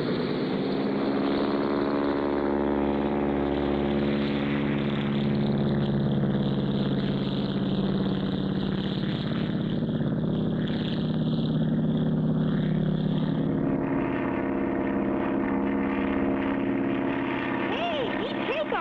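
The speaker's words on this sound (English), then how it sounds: "Hey, neat takeoff, Clutch." A cartoon bush plane's engine drones steadily through its takeoff, a loud sustained propeller hum whose pitch rises and shifts, continuous throughout with speech over it.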